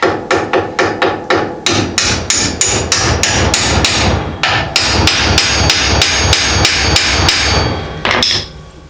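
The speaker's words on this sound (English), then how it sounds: "I'm going to use this brass and drive this in here." Brass drift hammered repeatedly to drive a steering arm into a Model A Ford spindle, a steady run of sharp, loud metallic blows close up, quick at first then evenly spaced, ending with a final ringing strike.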